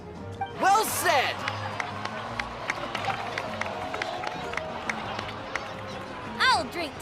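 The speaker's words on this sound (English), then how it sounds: "please give another round of applause for them" Scattered, light in-game crowd applause in Genshin Impact, a steady patter of claps under voices and footsteps, with brief chirpy bird-like tones rising near the start and the end.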